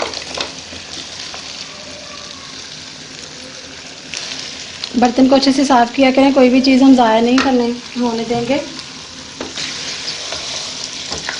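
Boiled beef pieces dropped into hot oil with browned onions for a white beef korma, loud sizzling frying and stirring swelling up midway, with someone talking over it.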